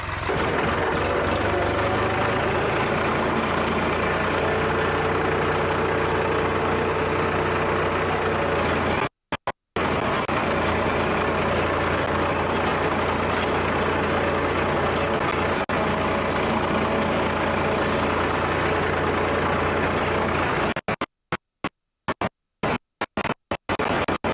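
A farm tractor engine running steadily with a continuous low rumble, close and loud, with a couple of short dropouts partway through and near the end.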